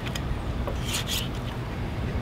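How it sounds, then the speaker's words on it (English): A knife slices meat into strips for fajitas, giving a steady scraping, rasping noise of blade against meat and board, with a few brief brighter strokes near the middle. "So we'll cut it, turn it, quarter of a turn, and then make some strips just like that."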